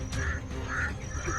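Several birds call close by outdoors, short duck-like quacking notes repeating through a steady background, with no talk over them.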